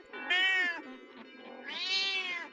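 Cats meowing in two long, drawn-out cries separated by a short pause, loud and close with no talk, set in a creepy tale of the Black Death.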